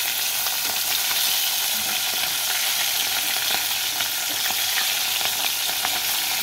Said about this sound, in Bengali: দেখো পমফ্রেট মাছটা কড়াইতে আমি দিয়ে দিয়েছি ভাজার জন্য, চলো ভাজা হোক।